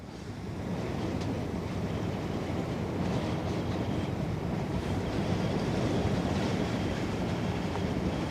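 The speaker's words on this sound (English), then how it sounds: "Oh, she's noisy. Like a rumble coming out of this one." A 400-metre CMA CGM Concorde container ship passing close on the Westerschelde produces a steady, broad low rumble, continuous and fairly loud with no breaks and no talk.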